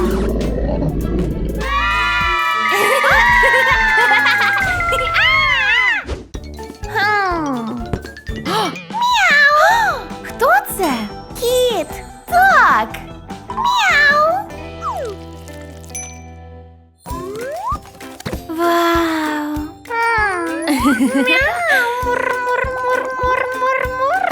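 Cartoonish meowing and playful animal-like vocal sounds over busy background music, with rising and falling tones and a few bursts of rhythmic percussion.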